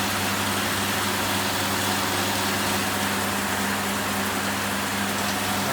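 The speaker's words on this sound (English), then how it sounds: "wait for this air compressor to finish filling up" An air compressor runs continuously while filling, a steady dense motor drone with a low hum underneath, constant and close with no talking.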